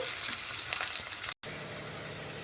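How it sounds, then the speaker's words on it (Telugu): Onions fry in a pan for potato curry, giving a soft, continuous sizzle with a few faint stirring scrapes, cut by a brief moment of silence before the sizzle resumes. "ఇవి ఎర్రగడ్డలు మెత్తబడే మెత్తబడే వరకు మనము ఫ్రై చేసుకుని ఉడికించుకోవాలండి"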